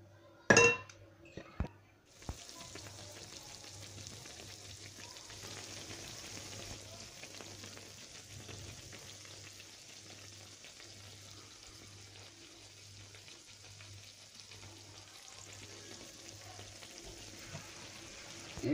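Vegetable kaygana batter sizzles in a frying pan after a few sharp clinks, settling into a steady, fairly faint hiss that runs unbroken to the end with no talking.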